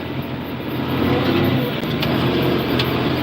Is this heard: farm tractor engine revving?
yes